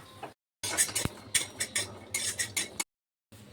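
Garlic and black cumin are dry-roasted and stirred in a dry wok, with a close series of scraping, clinking spatula strokes in quick irregular bursts set apart by short silences.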